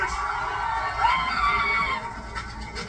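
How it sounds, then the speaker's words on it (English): A high, shrill scream rises over a noisy background in a celebrity beer advert, sustained for a couple of seconds and then fading under lingering ambient noise. "Girly scream."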